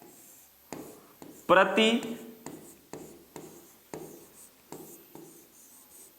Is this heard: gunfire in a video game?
no